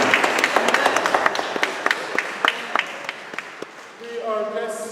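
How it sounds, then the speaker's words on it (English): A church congregation claps hands at Sunday Mass, a spread of individual claps that thins out, then gives way to sustained organ or held tones at the end. "Why don't we give ourselves a hand clap of thanks for reaching our goal"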